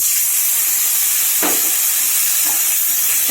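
A spice paste with ginger is added to hot oil and browned tempering spices while vegetarian chana dal is cooked. A loud, steady, close hiss and sizzle fills the clip, with a few brief spattering crackles and no talking.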